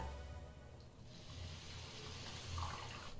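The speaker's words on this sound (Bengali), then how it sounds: "এবারে ভেজে রাখা সুজিতে দিয়ে দিচ্ছি তৈরি করে নেওয়া সুগার সিরাপ।" Homemade sugar syrup is poured from a pan into fried semolina for rava barfi, a steady low liquid splash and trickle running throughout at moderate level.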